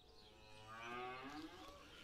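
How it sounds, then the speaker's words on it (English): A cow lets out a long, drawn-out moo, moderately close and steady, rising slightly in the middle with no talk over it. "I'm being attacked by cows!"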